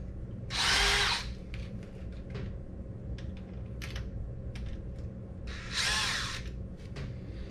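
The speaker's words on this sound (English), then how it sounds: "Step one, let's loosen up all these clamps." Hose clamps being loosened on the engine of a 1986 Ski Nautique boat, with two loud bursts of a power driver whirring about a second each over a steady background hum and scattered small clicks.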